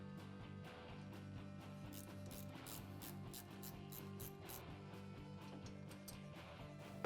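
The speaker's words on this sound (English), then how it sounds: "Now let's remove the 2 brake caliper mounting bolts." Ratchet cranking out the brake caliper mounting bolts on a Polaris RZR XP 1000 front hub, a steady run of fast metallic clicks with a low hum beneath, close and continuous throughout.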